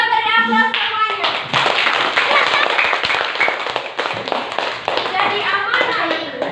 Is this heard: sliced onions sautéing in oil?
no